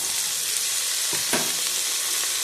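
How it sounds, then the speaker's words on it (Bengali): Chopped potatoes fry with onions in a hot pan in a steady, close sizzle, with a few soft scraping stirs cutting through the crackle. "আলু কুচিটা দেওয়ার পরে একটু নাড়াচাড়া দিয়ে কষিয়ে নেব।"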